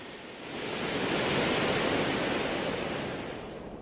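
Canal water spills over a concrete outlet weir into the Platte River. A dense, continuous rushing roar swells in over the first half-second, holds steady and eases slightly toward the end.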